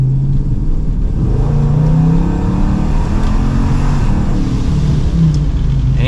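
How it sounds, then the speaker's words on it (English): An 1100-horsepower Dodge Charger Scat Pack accelerates hard, heard from inside the car: a loud, deep engine roar that climbs in pitch through the gears, with a brief shift break, and no voices over it. "here we go for one last acceleration"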